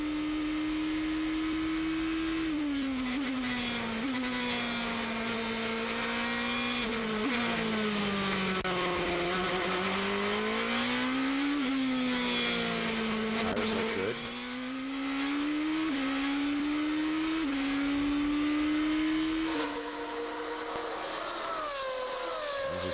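Heard from onboard, a 2006 GP2 Series race car at a circuit in Turkey screams through corners with its engine rising and falling as it shifts gears and brakes. Commentary runs faintly beneath the loud, continuous engine note.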